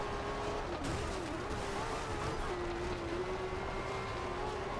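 A Lamborghini Murcielago race car engine drones in a racing video game, a steady whining tone that holds with slight pitch dips, under a continuous roar of road and wind noise.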